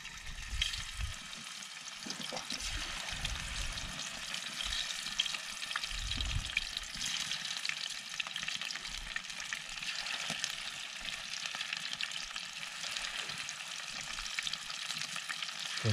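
Garfish fry in hot oil with a dense, steady sizzle and crackle that rises in bursts of louder spitting, heard close and alone without any talking.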